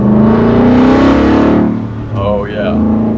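Coyote V8 in a 1970 Ford F100 pulling hard at wide open throttle, a loud rising engine roar that drops off, with voices talking in the cab near the end.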